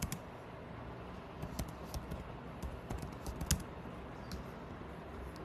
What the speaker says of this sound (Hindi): ऐसे आप टाइप करके कुछ भी लिख सकते हो